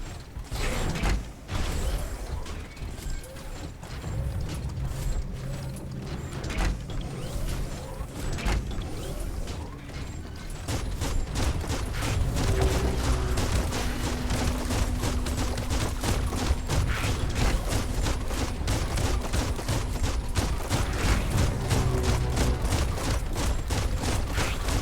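A mech walks in the video game Biomutant with continuous clanking, creaking and ratcheting mechanical movement that grows louder and denser partway through, heard alone without talk.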